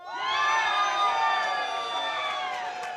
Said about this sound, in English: What about a big cheer from the Lions Club?